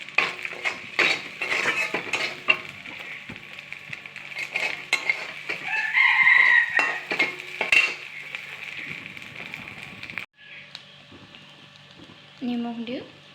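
Dried fish fried with turmeric and salt for a tomato and dried-fish recipe: a spatula clatters and scrapes against the pan in quick irregular strokes over a steady sizzle, nearby and moderately loud, easing off near the end.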